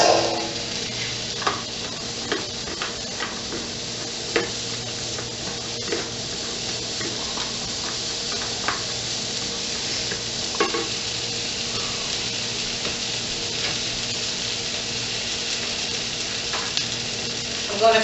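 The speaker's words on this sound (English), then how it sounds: "going to just take and saute them just a second" Carrots sautéing in a pan with olive oil for chicken soup, a steady close sizzle and fry with occasional stirring clicks and scrapes running throughout, no talk over it.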